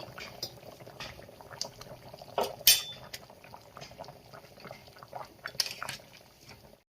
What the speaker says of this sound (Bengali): মাংসটা বেশ ভালোভাবে ফুটে গেছে